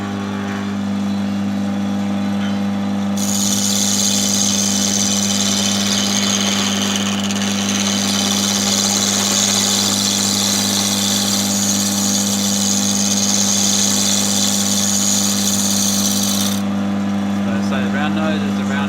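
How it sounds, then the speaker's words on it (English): Wood lathe spinning pine at high speed, a steady loud mechanical drone and whine with a hissing cutting sound rising in the middle and easing off near the end, continuous and close. "The lathe's very noisy at this speed."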